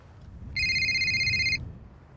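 A mobile phone rings on a golf course, giving one clear electronic ringtone burst of about a second over faint outdoor background noise.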